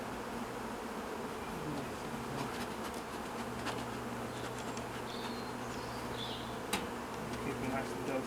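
Honey bees buzzing steadily at close range as an urban beekeeper splits a hive, a continuous dense hum with a few individual bees flying past the microphone.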